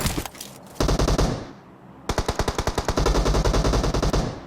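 Automatic gunfire in PUBG Mobile: a short rattling burst, a pause, then a longer loud stream of rapid, evenly spaced shots close up.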